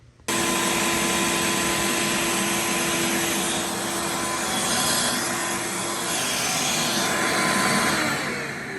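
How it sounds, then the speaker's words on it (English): A Ridgid 4-gallon shop vacuum roars steadily and loudly throughout, a constant whooshing drone with a faint high whine. "So to really get the good suction, you have to close that. And then that gives it all the vacuum power."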